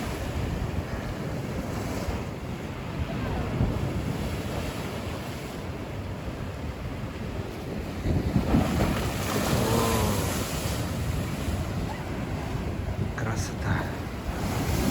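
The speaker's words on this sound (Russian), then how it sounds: "Ох, как же я люблю, друзья, штормящее море." Stormy sea at night on the Yalta waterfront: a continuous roar of surf and buffeting wind noise, with a heavier wave surge swelling midway.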